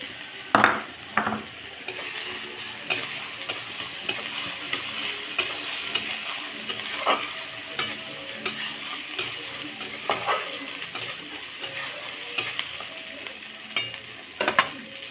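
Ginger paste frying and being stirred in a pan for a fish, potato and aubergine curry, with repeated scraping strokes of a spoon and a steady sizzle underneath, close and clear with no talking.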